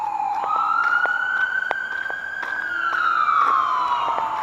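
A wailing emergency siren rises and falls in a slow sweep, steady and fairly loud, with faint traffic noise beneath it.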